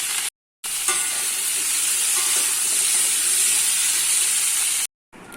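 Potatoes for aloo chorchori cooking in a pan, a loud, continuous close sizzle and hiss with faint stirring scrapes, broken by two brief cuts to silence.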